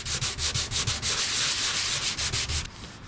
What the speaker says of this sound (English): we may as well keep sanding with this 120